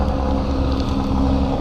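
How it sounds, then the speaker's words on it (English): Car traffic on a road beside a pond near a construction site gives a steady loud low rumble and whoosh of passing vehicles, with wind buffeting the microphone. "Sorry about the car traffic if you can hear."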